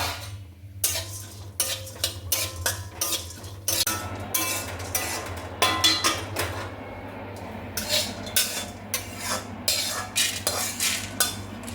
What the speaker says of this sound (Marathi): ह्या सूर्यफुलाच्या बिया आहेत त्या भाजून घ्यायच्या आहेत